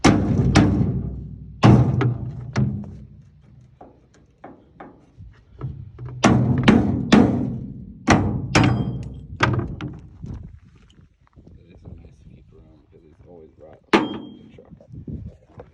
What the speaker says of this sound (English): I'm gonna get a hammer to knock that loose.